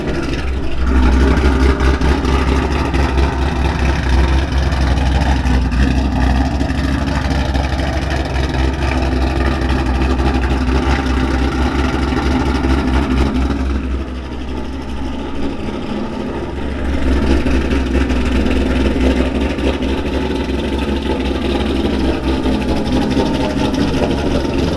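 A Ford Mustang with a ghost cam and American Racing headers idles nearby, a deep, loping rumble that runs steadily and loudly throughout, dipping briefly in the middle before resuming.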